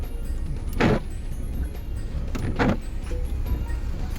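Two quick wiper sweeps pass across a windshield a couple of seconds apart, over a steady low hum inside a car.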